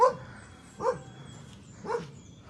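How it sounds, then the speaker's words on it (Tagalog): Three evenly spaced dog barks, moderately near, in a vegetable garden, with quiet background between them. "Kaninong aso to?"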